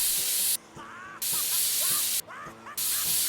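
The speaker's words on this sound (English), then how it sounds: "Spray some compressed air." Compressed air sprays to clean a computer part in a PC building simulator game: two loud, sustained hissing bursts separated by short gaps filled with faint chirping tones.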